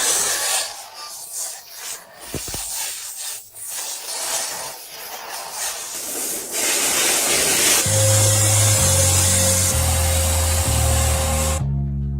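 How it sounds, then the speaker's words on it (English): A steady, close hiss of a spray gun spraying silver-based clear coat continuously, broad and airy, later joined by background music tones before cutting off abruptly. "use the imported silver-based clear coat spray gun"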